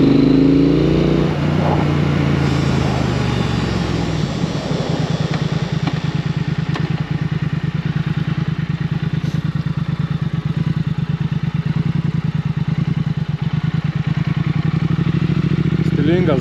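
A Triumph Thruxton 1200R motorcycle is ridden on the road, its engine holding a steady, throbbing drone with a fast pulsing beat that stays loud and close from start to finish.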